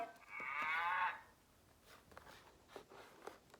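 A toy's electronic farm animal sound plays briefly, a bright warbling call, followed by quiet handling noises and faint rustling.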